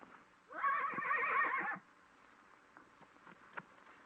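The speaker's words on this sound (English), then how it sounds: "Give Andy your horse." A horse whinnies loudly for about a second in a 1936 western film, followed by faint, scattered hoof clops on a quiet background.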